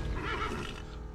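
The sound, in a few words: horse neighing in the video game Call of Juarez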